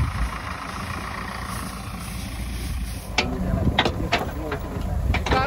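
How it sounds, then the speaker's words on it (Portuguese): A truck engine idles steadily at a rural farm site, a low continuous rumble with clanks and knocks joining in the second half. "E carona no caminhão descendo pra casa."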